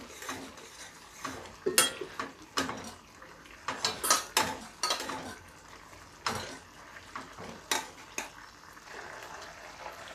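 Jaggery being stirred into a rajma curry in a metal pot, with irregular spoon clinks and scrapes against the pot, close and fairly loud, no talking.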